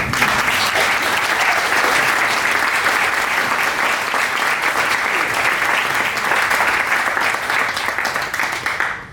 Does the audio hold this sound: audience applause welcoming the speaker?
yes